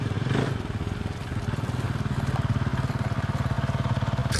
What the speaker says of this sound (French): Très très discret le bruit du moteur.